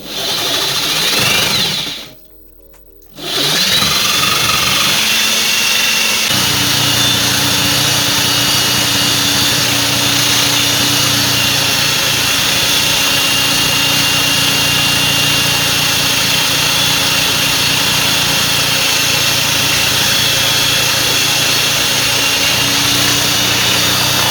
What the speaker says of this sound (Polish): Bierzemy sobie papier 40, bo to jest chyba 40 albo 60, już nawet nie pamiętam. Bierzemy i szlifujemy sobie